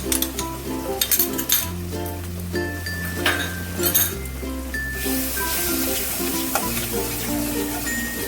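Yogurt being stirred into a cashew and poppy seed paste in a pan, with a spoon clinking and scraping against the metal over a gentle sizzle, steady and close.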